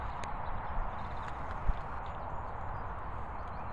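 Horse hooves clop on the ground in a loose, uneven rhythm, faint and steady, with no voices.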